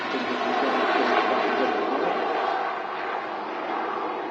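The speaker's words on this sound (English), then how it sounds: "EasyJet taxiing in Terminal 1" A continuous broadband roar of an easyJet airliner's engines as it taxis at Manchester Airport, steady and fairly loud throughout, easing slightly toward the end, with no voices.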